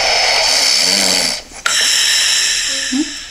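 A man snores in a played-back home recording, with long, loud, rough inhalations and a brief pause midway before the rasping breathing resumes, close and alone.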